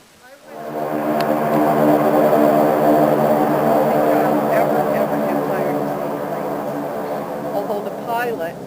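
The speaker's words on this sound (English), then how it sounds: "This is the first time I've ever actually caught the aircraft here." A supply floatplane at a remote ranger station in Quetico, its propeller engine droning loud and close for most of the stretch, swelling early and then easing slightly, with brief voices over the steady roar.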